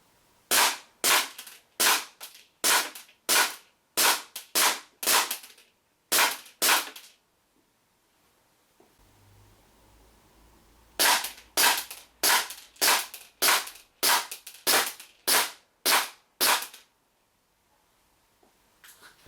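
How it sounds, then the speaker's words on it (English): WE SIG P228 then P226 gas airsoft pistols firing on a range: two strings of crisp, snappy pops at a quick steady rhythm, close and loud, separated by a short quiet pause. "First I'll be firing the 228, and then I'll be firing the 226 Mark"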